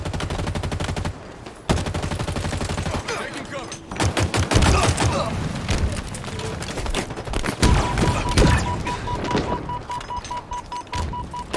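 Rapid automatic gunfire and explosions in Halo Infinite multiplayer, dense bursts of shots and impacts nearly nonstop, loud and close, with a tonal in-game beep partway through and no talking.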